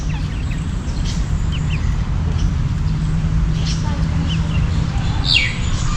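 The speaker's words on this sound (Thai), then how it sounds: "ไก่อะ" Chicken calls and chirps come from close by, with short tweets scattered over a steady low hum and background noise.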